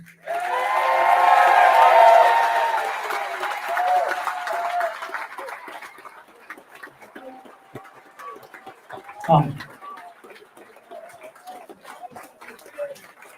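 An audience at a launch party in Newcastle cheers and claps loudly at first, then the noise fades to scattered sounds and voices.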